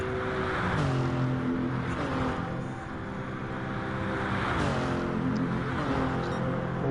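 Race cars lapping a track in a sim racing game, engines droning steadily with rising and falling revs as cars pass, continuous and fairly loud, no talk.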